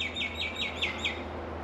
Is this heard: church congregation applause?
no